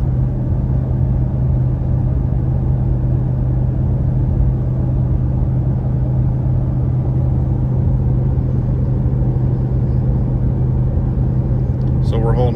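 A vehicle cruising at highway speed, about 72 mph in seventh gear near 3,000 RPM on a warm morning in South Texas, gives a steady, loud engine and road rumble throughout with no change in pace.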